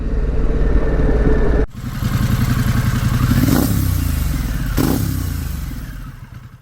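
Harley-Davidson Pan America motorcycle engine running steadily and close, with a brief dip in the rumble early on and a couple of louder revs or passing swells before it eases off.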